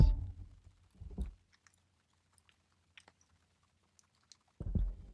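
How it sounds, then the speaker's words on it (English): Tarot cards shuffled by hand make short bursts of papery riffling and tapping at the start, around one second and at the end, separated by near silence with faint clicks. "That was a bad shuffle, wasn't it?"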